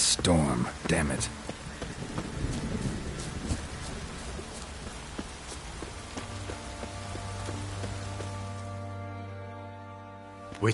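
Steady rainstorm hissing through an open-world scene in The Witcher 3 on PS4, broadband and constant, with a low drone and faint musical tones rising later, voices speaking intermittently above the downpour.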